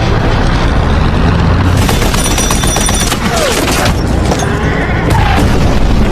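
A landmine blast in a film scene, heard as a loud booming burst with crackling debris and scattered sharp reports over a dense rumbling background, continuing for several seconds.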